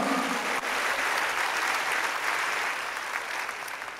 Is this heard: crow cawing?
no